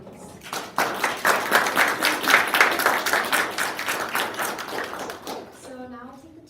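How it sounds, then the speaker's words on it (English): An audience claps for panelists at a women's event, a burst of applause swelling quickly and holding for several seconds, then fading as a voice begins speaking at the end. "a round of applause for our wonderful panelists, please"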